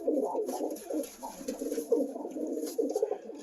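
Pigeons, including an almond-coloured Sikander, coo softly and continuously in a loft, several overlapping low rolling coos close by with faint background hiss.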